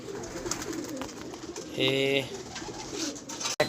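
Pigeons coo briefly in a loose run, a soft low warble rising once near the middle over steady background noise, with a voice speaking a word nearby.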